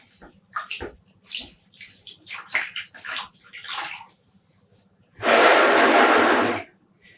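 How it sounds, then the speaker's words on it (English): Wet yarn skeins being squeezed by hand during home dyeing, a string of short wet squishes and drips followed by a louder, steady rush of water pouring out for about two seconds. "Squeezing out the excess water."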